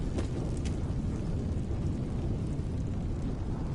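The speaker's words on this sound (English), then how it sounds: "Sounds like there was an explosion." A deep, rumbling explosion from the Tales of Arise video game, with a couple of sharp cracks early on and then a loud, sustained roar of low-pitched noise that holds steady throughout.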